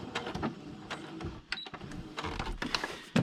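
Sewing machine stitching through paper, a craft piece shaped like a bug with antennae and little wings, giving short bursts of rapid mechanical clatter that stop and start, close and moderately loud.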